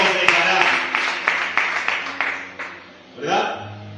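A church congregation claps in a quick, uneven burst that fades away over a few seconds, with voices talking over it and a short vocal sound at the end.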